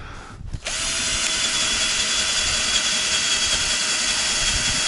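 A power drill spins up sharply and runs at a steady, loud, high whine as its bit bores into material during boat repair work, continuous and close with no pauses.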